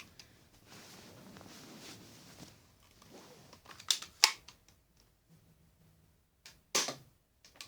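A Nerf N-Strike Reflex blaster is test fired indoors, giving a few sharp, close snapping shots with short mechanical clicks between quieter handling sounds; no talk.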